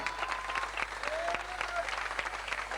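Wedding crowd applauding performers at an Azerbaijani toy meyxana, steady dense clapping throughout with a voice briefly heard under it and faint tonal hum.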